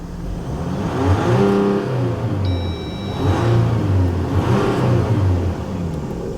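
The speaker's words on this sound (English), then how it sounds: "you can just hear that diesel run. Let's get a couple revs up" A nearby Jeep Rubicon EcoDiesel engine revs up and down in rising and falling swells over a steady rumbling idle, with a brief high whine partway through.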